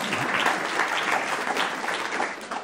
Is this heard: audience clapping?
yes